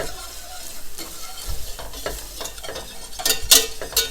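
Onions sizzling in a pan while a utensil stirs them, with a close, steady fry hiss broken by repeated scraping strokes and a few sharp clinks toward the end, and no talking.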